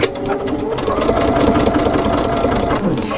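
Sewing machine running steadily at close range, stitching down the edge of a piped and pieced fabric binding, with a continuous motor hum and rapid needle chatter through the whole stretch.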